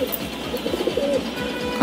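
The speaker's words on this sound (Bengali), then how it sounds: "এখানে অনেক ভালো জাতের ইন্ডিয়ান এবং পাকিস্তানি কবুতর কালেকশন আছে তার কাছে" Indian and Pakistani high flyer pigeons in a loft collection coo in repeated soft, low rolling calls, several birds overlapping at close range with a few faint chirps above.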